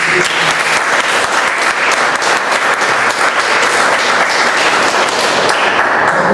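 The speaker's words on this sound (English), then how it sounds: "So big round of applause to them." Dense, loud round of applause from the audience at a Toastmasters club meeting in Bombay, sustained and even throughout with no voices on top.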